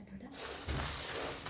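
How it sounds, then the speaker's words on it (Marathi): A kitchen mixer grinder grinds raw, unroasted whole spices for homemade black masala, starting abruptly after a brief quiet moment and then running as a loud, steady, close whirring roar. "थोडा असं वाटून घ्यायचं मिक्सरमध्ये"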